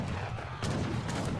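Cannon fire in Age of Empires III: Definitive Edition, heard as a dense battle din of low booming blasts and crackling gunfire, with a sharper hit about midway, loud and continuous.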